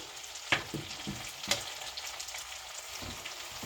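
Apples fry in a skillet with a steady close sizzle, broken by a few sharp utensil scrapes and clicks, and no talking.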